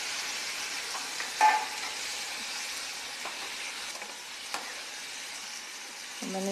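Roughly chopped, peeled tomatoes fry in a pan for a sweet and sour chutney, making a soft, even sizzle punctuated by a few faint utensil clicks and taps.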